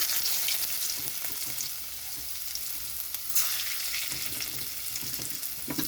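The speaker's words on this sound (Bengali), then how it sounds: "কড়ার মধ্যে দিয়ে দিচ্ছি রসুন" Garlic frying in hot oil in a wok for a fish curry, a steady crackling sizzle with occasional stirring scrapes, close and continuous without any talk.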